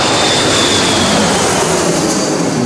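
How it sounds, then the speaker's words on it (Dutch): An airplane passes over near an airport, a steady broadband roar that fills the whole stretch without pause and with no voices. "Als je een leuk muziekje hoort en je hoort een vliegtuig eroverheen."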